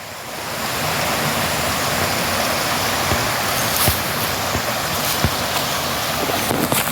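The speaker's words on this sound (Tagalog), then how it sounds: "Ang ganda ng sapa dito" A clear countryside stream flows in a steady, full rush of water close by, with a few small splashes and no voices.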